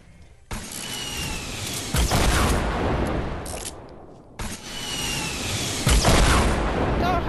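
Gunfire, a few sharp loud shots with broad crackling noise between them, spaced a couple of seconds apart, with a voice briefly heard.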